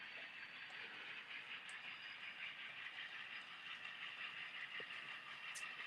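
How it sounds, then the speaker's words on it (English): A model railroad ore train runs along the track through S-curves and a grade, giving a steady, continuous rolling rattle and hiss at moderate level, with a few faint clicks; no one talks. "You get the ore train snaking around the grade there."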